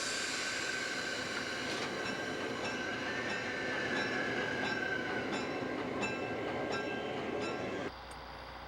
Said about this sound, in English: After uncoupling the locomotives, JP runs around the passenger consist on the siding and comes in from the back end of the train